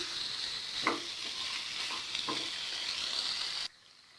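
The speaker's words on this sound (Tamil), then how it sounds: "எல்லா பீஸ்லேயும் கிரேவி படுற மாதிரி, மசாலா படுற மாதிரி நல்லா கிளறி விட்டுக்கலாம்." Country chicken biryani masala being stirred in a pan, a steady sizzle with a few soft scrapes of the spoon, continuous and fairly close, cutting off abruptly near the end.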